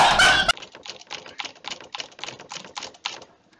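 Computer keyboard keys being mashed rapidly during a 1v1.LOL game, a burst of clicky taps in quick irregular succession after a brief loud sound at the start, close and crisp.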